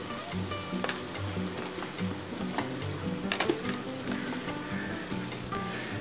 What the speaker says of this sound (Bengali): অল্প অল্প করে কষিয়ে নেব।